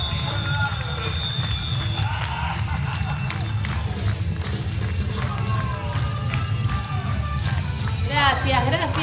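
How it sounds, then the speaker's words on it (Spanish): Carnival crowd at an outdoor night parade in San Pedro applauding and cheering, a steady broad wash of clapping and babble with scattered shouts and whistles, moderately distant. "¡Fuerte los aplausos!"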